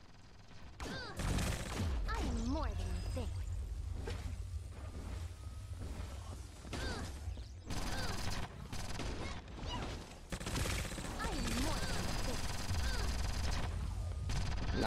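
Gunfire in the T3 Arena shooter video game comes as loud, dense bursts of rapid shots broken by short lulls, with whooshing effects and game sounds mixed in.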